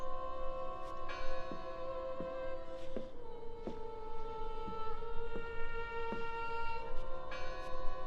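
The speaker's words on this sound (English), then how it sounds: "I heard the bell." A bell tolls in a horror video game set in Norway, ringing about a dozen times at a slow, even pace, each strike ringing out with a long, humming resonance over a low background drone.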